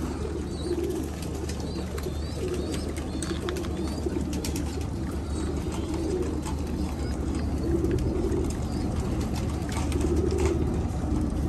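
Pigeons coo steadily on a rooftop, soft repeated throaty calls rising and falling over a constant low background hum, fairly close and continuous throughout.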